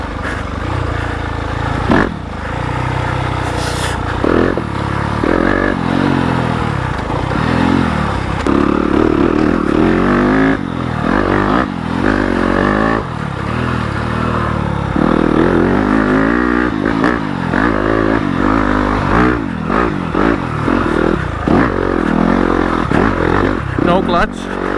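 A 2020 Yamaha YZ250FX dirt bike climbs a steep, rocky trail, its engine revving up and down continuously with clattering over the rocks and a voice talking throughout.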